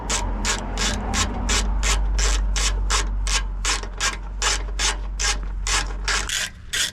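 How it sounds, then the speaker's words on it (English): A ratchet drives screws back in during an oil change on a 2024 Ford Escape 1.5L EcoBoost, its steady rapid clicks repeating evenly and loud up close over a low background hum, with no talk. "and then we just put the screws back on"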